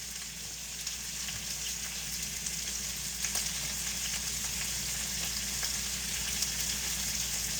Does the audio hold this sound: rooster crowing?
no